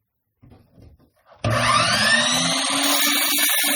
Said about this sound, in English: Miter saw and cut this side